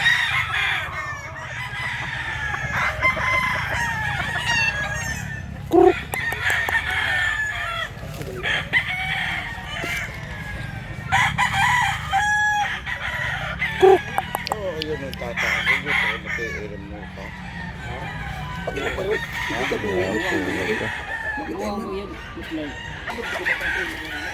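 Several roosters crow again and again over steady clucking from a flock of chickens bought for transport to Masbate; the calls are close, overlapping, and continue throughout the clip.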